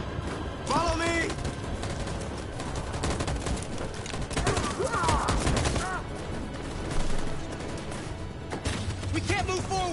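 Sustained machine gun fire and scattered gunshots rattle loudly through a battle scene in the video game Detroit Become Human, with dense bursts throughout and voices shouting among the shots.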